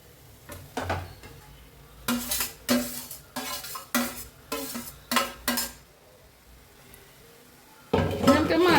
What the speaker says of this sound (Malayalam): നമ്മുടെ ചിക്കൻ പീസ് ഇട്ട് കൊടുക്കാം